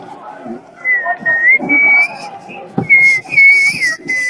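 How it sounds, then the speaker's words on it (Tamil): A person whistles a song tune as a guessing challenge, clear melodic phrases in two bursts with a short break, close and loud, with light background noise. "நான் விசில் அடிப்பேன் பாட்டை, நீ வந்து என்ன பாட்டுன்னு கண்டுபிடிக்கணும்."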